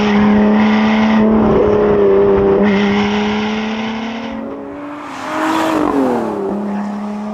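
A Lotus Evora S with a supercharger and aftermarket exhaust revs hard, its loud engine note climbing through gears with brief shift breaks and a rising whine, close and continuous, with no talk.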